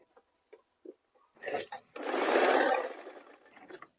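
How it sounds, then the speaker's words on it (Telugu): A sewing machine stitches churidar fabric in a tailoring boutique, a few short taps giving way to a steady loud whirring run of about a second and a half, then brief bursts as it slows, with no talk over it. "నేను ముందు ఫోల్డ్ చెయ్యట్లేదు, ముందు స్టిచ్ చేస్తున్నాను, తర్వాత ఫోల్డ్ చేస్తాను"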